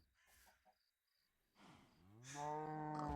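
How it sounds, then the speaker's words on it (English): A Minecraft cow lets out a single long, rising moo after a few soft background noises, fairly close and clear. "We have, for our cows, we have Frank, we have Mary"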